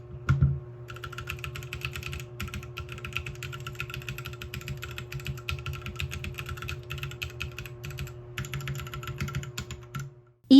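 Rapid keystrokes clatter on a modified mechanical keyboard, close and crisp, with a steady low hum underneath and a brief pause near the end.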